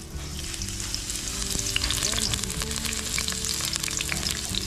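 Ginger, banana and celery sauteing in a little oil for chili garlic prawns, a steady loud sizzle with faint stirring and small crackles throughout, close and continuous, no talk.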